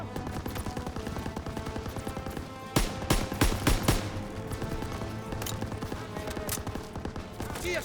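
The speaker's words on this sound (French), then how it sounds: "Vous devez faire taire cette mitrailleuse." Machine gun fire in Call of Duty WWII crackles through continuous battle noise, with a dense burst of sharp, loud shots in the middle amid ongoing scattered gunfire.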